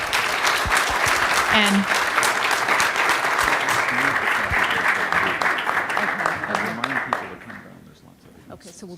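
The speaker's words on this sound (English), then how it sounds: "please give Chris a very big round of applause" Conference keynote audience breaks into loud, sustained applause that continues strongly for about seven seconds before fading, with a voice briefly heard as it dies down.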